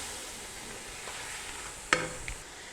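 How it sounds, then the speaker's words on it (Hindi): Chicken browning with spices in a pot: a faint, steady low sizzle runs throughout, with a sharp spoon-stir clatter near the end and a smaller knock soon after. "स्पाइसेस डाल लेने के बाद हमने इसको अच्छे तरीके से भून लेना है।"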